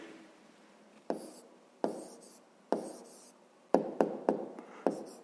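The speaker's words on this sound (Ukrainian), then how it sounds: "Ну що ж, записуємо відповідь. Пишемо відповідь." A pen writes down the answer to a fifth-grade maths equation by hand on paper, giving a series of close, distinct tapping and scratching strokes in an irregular rhythm against a quiet background.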